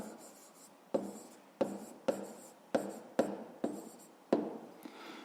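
An answer being written by hand on paper, a close, quiet series of about seven short pen strokes, each a sharp scratchy tap followed by a brief rub, with no talking.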